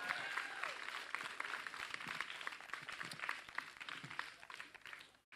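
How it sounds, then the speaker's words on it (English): A crowd of activists at a rally against a Supreme Court nominee applauds a senator, a dense patter of many hands clapping steadily at moderate distance, with a few voices mixed in, before fading abruptly at the end. "Let's give another round of applause to Senator Merkley"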